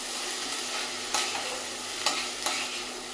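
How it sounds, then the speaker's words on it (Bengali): Washed joha rice grains are dry-fried and stirred in a pan before making pulao, giving a steady soft sizzle and rustle broken by a few sharp scraping strokes of the spoon. "চালগুলো একটু ভেজে নিয়েছি"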